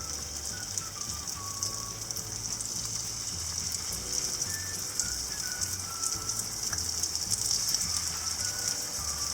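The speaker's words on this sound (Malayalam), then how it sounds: "ഓയിലിപ്പോൾ നന്നായിട്ട് ചൂടായി വന്നിട്ടുണ്ട്. ഇനി നമുക്ക് പ്രോൺസ് ഇതിലേക്ക് ഇട്ട് കൊടുക്കാം." Prawns shallow frying in hot oil over a medium-low flame give off a steady, even sizzle with faint crackles throughout, and no voices can be heard.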